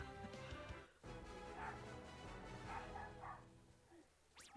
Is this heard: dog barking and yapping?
yes